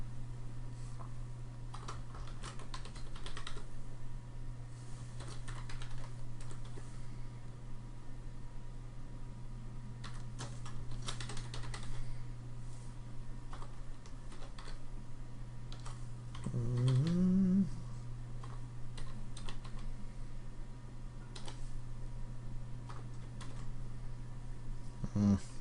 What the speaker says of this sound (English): then I'm going to type this command here